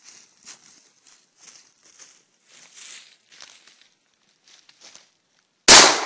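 A shotgun fires one loud, close blast that bursts out sharply after several seconds of faint rustling and small movements.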